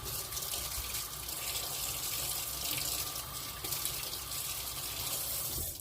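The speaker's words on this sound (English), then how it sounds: "Let me rinse my hands one more time." Tap water runs steadily into a sink as hands are rinsed under it, a close, constant gushing with no talk.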